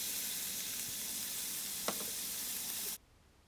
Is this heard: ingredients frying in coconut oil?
yes